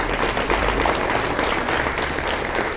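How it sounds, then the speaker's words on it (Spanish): Audience applause for a course participant named Rubén, a dense, steady clapping from a room full of people that holds evenly throughout. "Un aplauso para Rubén."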